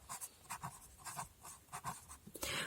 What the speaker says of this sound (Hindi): तो अब जो हमने यहां समझा है उसको यहां लिखते हैं